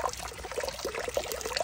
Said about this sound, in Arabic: زين صوت الماء ما شاء